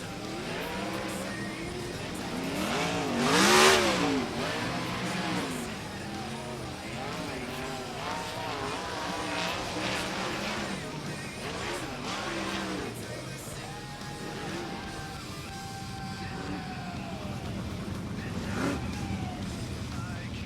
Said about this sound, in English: heat race number 2, featuring on the front row Don Trent, Ashton Torgerson.